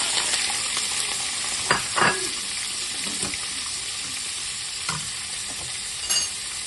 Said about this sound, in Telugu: బీన్స్ వేసి ఇట్లా బీన్స్ బాగా ఆయిల్లో కొద్దిసేపు వేగనివ్వాలి.